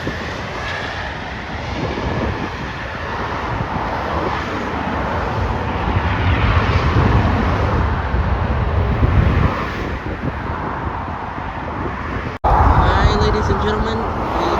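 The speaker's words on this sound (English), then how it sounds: "Now about to touch down on runway 10." A Boeing 737-800 arriving from Orlando touches down on runway 10 at San Juan, heard from outside the airport as a loud, broad, sustained engine roar and rumble lasting the whole stretch, with wind noise and brief talk mixed in.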